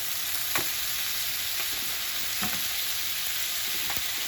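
A skate wing fries in knobs of Cornish butter, giving a steady close sizzle with a few soft clicks of the pan, with no voices.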